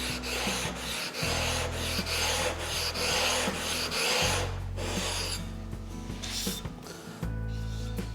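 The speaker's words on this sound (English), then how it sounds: "quickly stroke it across the flattening stone" Sharpening stone rubbed back and forth across a flattening stone, steady gritty scraping strokes with brief pauses between passes, loud and close with no talking.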